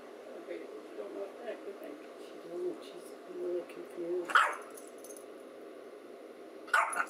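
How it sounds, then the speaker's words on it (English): A dog gives two sharp barks a couple of seconds apart, reacting to its reflection in a mirror, over a quiet room with faint voices and rustling. "What's that dog doing over there?"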